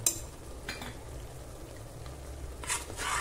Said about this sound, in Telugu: ఇప్పుడైతే మనం కలర్ చేంజ్ అయ్యే వరకు కూడా వేగనిద్దామండి.